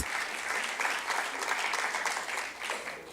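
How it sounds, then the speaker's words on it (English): Sustained applause from an audience at a women's health event, a dense steady wash of many hands clapping at even loudness for the whole stretch. "You just have to give him a hand of applause"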